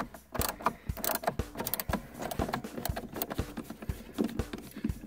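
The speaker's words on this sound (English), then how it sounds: "you need your hex bit, find the right size" A hex bit backs out screws from the center console armrest of a 2004 Ford Escape, giving a rapid, rhythmic series of close mechanical ratchet-like clicks with no speech.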